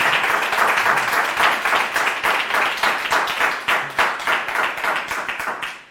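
A jazz concert audience applauds a pianist after a vibraphone and piano duo performance, a loud room of brisk rhythmic clapping that thins and fades out over a few seconds.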